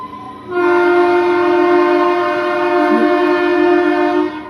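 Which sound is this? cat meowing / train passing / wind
train passing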